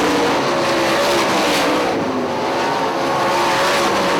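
IRA sprint cars race at Hartford Speedway Park, a 2005 dirt-track event, their engines droning loud and close in an unbroken roar with shifting pitch as several cars pass together.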